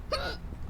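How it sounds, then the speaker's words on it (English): A single short, sharp hiccup, close and fairly loud, lasting a fraction of a second and followed by quiet room tone. "Oh, excuse me. That was a hiccup."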